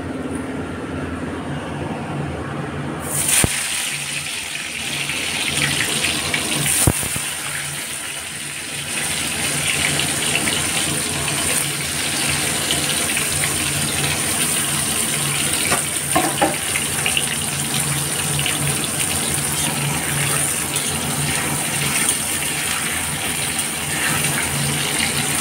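Potato pieces coated in salt and turmeric frying in hot oil: a loud, continuous hiss that starts abruptly after a quiet moment and runs on evenly, with occasional small clicks.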